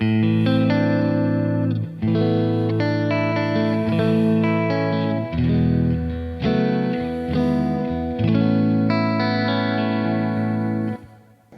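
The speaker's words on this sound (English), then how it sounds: "we get some little delay, kind of reverb, and a chorus effect with just one dual delay" Electric guitar played through a Kemper Profiler rebuilding a Keeley Halo tone, with dual delay giving echo, reverb and chorus shimmer; sustained chords and melodic notes ring continuously and loud for about eleven seconds with no talking.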